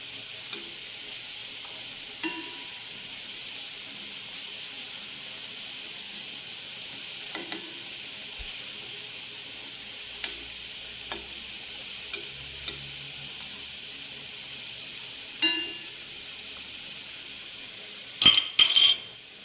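A snack fries in oil in a pan until brown, a steady soft sizzle broken by scattered clinks of a utensil against the pan and a quick cluster of taps near the end.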